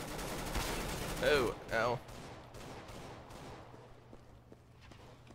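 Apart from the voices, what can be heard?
gunfire from the video game CS:GO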